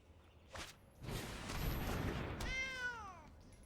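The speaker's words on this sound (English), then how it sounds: "kitty." A cat meows once near the end, a clear drawn-out rising and falling call, heard faintly after a stretch of quieter rustling noise.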